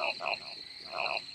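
Frogs in the Loveland horror frog game croak in quick close repeated bursts, a few loud throaty calls over a short stretch.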